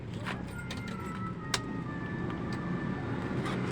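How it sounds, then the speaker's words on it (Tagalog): Multicab small utility vehicle engine starting, with a sharp click and then a steady close idle hum. "So ipa-start natin yung engine niya"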